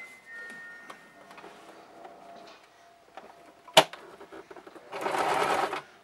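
A sewing machine runs through a nylon hem edged with grosgrain ribbon, its close steady hum broken by a sharp clack near the middle and ending in a loud, dense burst of rapid back-and-forth lock stitching.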